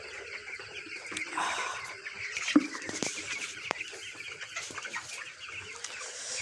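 Broiler chickens about nineteen days old cluck and murmur nearby while being weighed on a scale, with scattered soft calls and small knocks over a low barn background.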